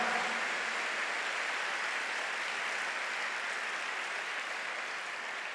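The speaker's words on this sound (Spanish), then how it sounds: "Dele ese aplauso al Señor" Faint, steady wash of applause from a church congregation, sustained evenly for several seconds with no voices over it and a slight fade toward the end.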